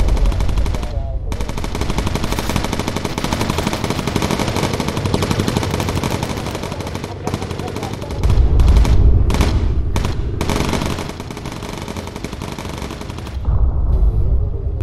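Gunners on a USAAF bomber fire in the video game Bomber Crew, long loud bursts of rapid machine-gun fire with brief gaps and heavier surges near the end.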